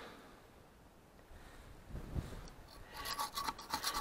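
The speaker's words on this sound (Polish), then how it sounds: "No i tu skrobanko teraz" Old gasket and silicone are scraped from a metal part of an Ursus C-360 tractor's hydraulic lift oil pump drive, giving quiet rasping strokes that build into a louder rhythmic scratching, with no talk.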